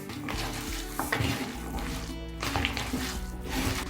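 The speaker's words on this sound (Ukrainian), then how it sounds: "І все перемішаю." Soft scraping and squishing as a chunky potato and onion filling is stirred in a bowl, with light clinks of a utensil, fairly quiet.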